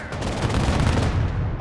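Dense gunfire pours onto a lab unit in the military strategy game Broken Arrow, a loud continuous rattle of overlapping shots with rumbling low booms throughout.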